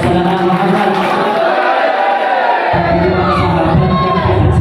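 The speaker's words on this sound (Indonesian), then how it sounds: "Tepuk tangan semuanya." A congregation at a dhikr and shalawat gathering in a mosque bursts into sustained applause and cheering, a dense, loud crowd roar filling the whole stretch with no one speaking over it.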